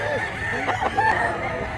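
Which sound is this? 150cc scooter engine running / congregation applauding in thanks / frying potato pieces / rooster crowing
rooster crowing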